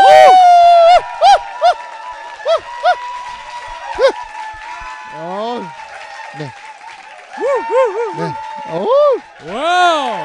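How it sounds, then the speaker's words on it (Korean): A talk-show studio audience applauds and cheers loudly to welcome guest Park Yong-hoo, with rising whoops and shouts mixed in while the hosts keep talking over the noise. "여러분 큰 박수로 맞아주세요."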